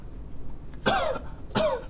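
A voice imitates dogs coughing: two short, harsh coughing bursts spaced well apart, close and fairly loud, with quiet between them and no talk.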